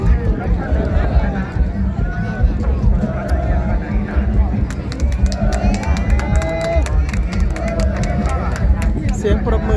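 A crowd at a traditional Thai long-boat race in Tha Don Kok, Phanom Phrai, cheers and claps loudly and continuously, with shouting and clapping bursts under an announcer's steady talk.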